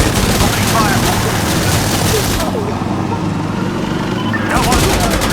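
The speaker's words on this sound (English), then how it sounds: "We've got targets. Opening fire." Rapid gunfire in the tactical shooter Insurgency: Sandstorm, dense bursts of shots at close range that drop out briefly before resuming.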